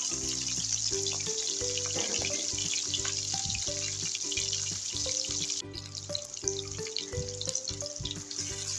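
Onions frying in oil in a kadai for aloo gobi, giving off a continuous steady sizzle with soft background music running underneath.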